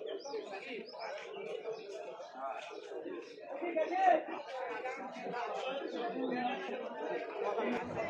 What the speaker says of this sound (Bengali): এখানে কিছু কালাঙ্কা ম্যাড্রাস পায়রা আছে, দেখুন কত সুন্দর সাদা।